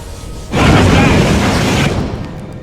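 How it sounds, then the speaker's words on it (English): An Ork ammunition magazine explodes in Space Hulk: Tactics after a flamer sets it off, a sudden loud roaring blast that swells in and rumbles for over a second before cutting off. "Your men triggered an explosion with their flamer, detonating an Orc ammunition magazine."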